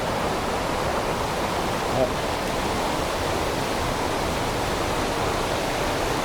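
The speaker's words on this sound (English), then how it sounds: "we're probably going to lose the quality of the sound because of the noise from the water" Steady, dense rushing water roars without pause over a park spillway in Irishtown, Canada, a broad even wash of noise nearby.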